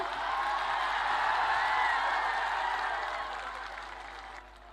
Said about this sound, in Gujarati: આપણે આવકારીએ છીએ તાળીઓના ગડગડાટની સાથે